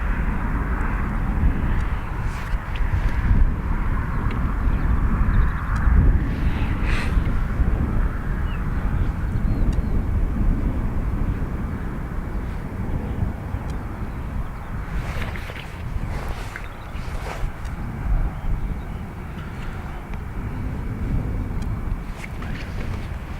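An Aer Lingus Airbus A321neo bound for Toronto departs Dublin Airport, its jet engines roaring loud and steady for the whole stretch, with wind buffeting the microphone.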